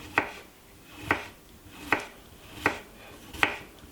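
A small knife chops cucumber finely on a board, five crisp, evenly spaced cuts about one per second, close and clear with no talk.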